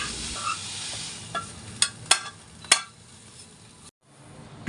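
Chhana, cottage cheese for carrot sandesh, sizzles and hisses softly in a pan, with a few sharp scraping stirs and clinks of the spatula close by before the sound drops away near the end.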